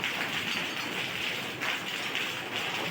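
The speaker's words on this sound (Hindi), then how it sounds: "अल्लाह की तरफ से बारिश की रहमत है।" Rain falls in a steady, soft, even hiss, with no voices over it.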